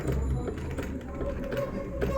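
A household sewing machine stitches cloth after a repair, running with a steady low mechanical whir and light rapid clatter, close by and without talk.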